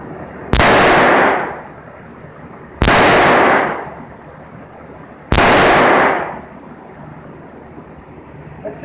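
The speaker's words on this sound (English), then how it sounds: "One more time with the 357 Magnum now." Three loud .357 Magnum gunshots fired at a ballistic test block, each a sharp, booming crack with a short decaying tail, spaced a couple of seconds apart against a quiet background, no talk.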